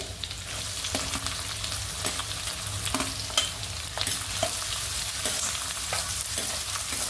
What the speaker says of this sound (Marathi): आता आपल्याला कांदा घालायचा आहे पहिले